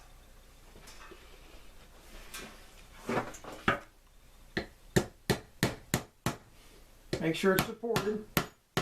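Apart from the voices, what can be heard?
driving pin into DAM Quick 330 spinning reel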